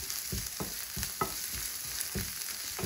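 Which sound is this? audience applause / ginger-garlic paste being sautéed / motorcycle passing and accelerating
ginger-garlic paste being sautéed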